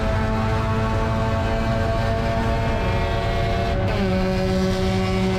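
A Spec Miata race car at full throttle on the Roebling Road circuit, heard as a loud, steady engine drone with a slight pitch shift toward the end, heard continuously from on board.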